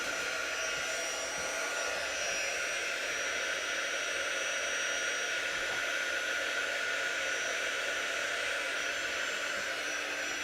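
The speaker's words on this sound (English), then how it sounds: "The hairdryer's a little better with this." A hair dryer runs steadily for the whole stretch, a loud continuous airy whine and rush indoors, unchanging with no pauses.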